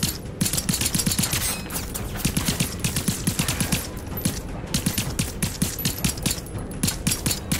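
Heavy automatic gunfire rattles in rapid, dense bursts through a video game firefight, loud and continuous with only brief gaps, and no talking over it.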